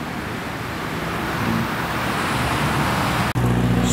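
A first-generation Subaru Impreza drives by on a city street in Curitiba, Brazil. Steady, loud roadway noise builds over four seconds with no talking.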